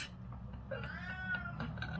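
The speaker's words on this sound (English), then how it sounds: "Hopefully we will have no more cat interruptions." An indoor house cat gives a drawn-out, wavering meow, faint and somewhat distant against a quiet room hum, with no one speaking.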